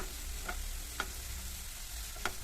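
Green chilli, ginger and garlic sauté in a pan with a soft continuous sizzle, while a few faint ticks from stirring or the pan come through at intervals and no one speaks.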